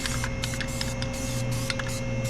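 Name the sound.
spraying Harbor Freight surface shield aerosol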